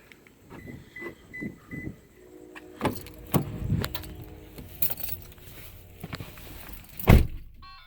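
Keys jingle briefly, then a few heavy thunks of a Toyota Tundra truck door closing, ending with one loud, close slam.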